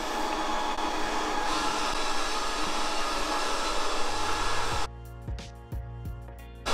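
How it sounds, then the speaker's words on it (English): Ultenic TS1 robot vacuum mopping a floor with dual rotating mops, a loud steady whirring hum that runs for several seconds and then abruptly drops to quieter, intermittent motor noise. "is doing that S pattern back and forward while it's mopping the floor"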